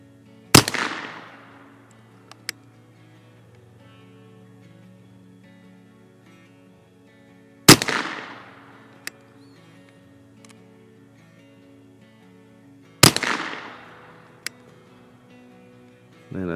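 Three loud, sharp gunshots from CCI Mini Mag rimfire rounds fired at a target about 25 yards away, spaced several seconds apart, each with a brief ringing decay over a low steady background hum.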